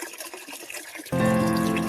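Water pours steadily into a container set out for birds, starting suddenly after a second of quieter rustling and continuing as a loud, close gush.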